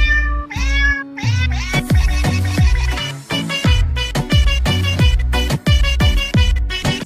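A cat-meow rendition of a song, built from pitched, repeated meows set to a steady melodic rhythm over a thumping beat, loud and continuous with no talking.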